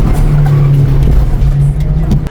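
A Citroën C15 with a 1.8 litre 60 hp diesel engine driving fast, a loud, steady low engine drone with a constant hum, heard from inside the car without talk.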